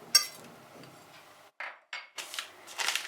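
Softened butter scraped from a container into a mixing bowl for sesame cookie dough, heard as a few short dull scrapes and clinks of utensil against bowl, close and fairly quiet with pauses between.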